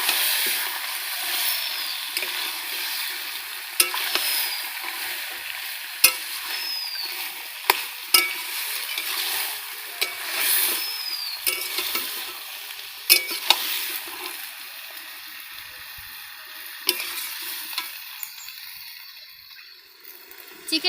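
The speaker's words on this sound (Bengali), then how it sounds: "চিকেনটা আমি ভালোভাবে কষিয়ে নেব" Chicken sautés in a pan, village-style, with continuous sizzling and repeated scraping, clinking strokes of a spatula stirring at an uneven rhythm, close and clear with no talking.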